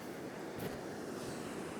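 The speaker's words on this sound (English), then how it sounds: "But these waves are getting a bit sketchy." Sea waves break on a Scottish beach during shore fishing for turbot, making a steady, dense roar of surf mixed with buffeting wind noise on the microphone.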